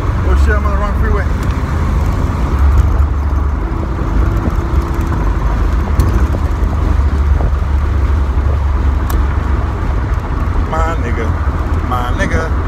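Car rolling along a freeway with continuous loud road and engine rumble, tire and wind noise filling the whole stretch, faint voices briefly over it.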